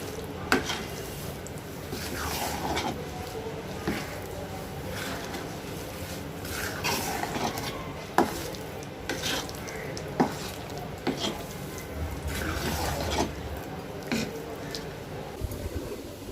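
Rice flour being stirred and mixed with ghee for bellam chalimidi, a jaggery sweet: steady wet scraping and squishing of a spoon in the pot, with occasional sharp knocks against the vessel.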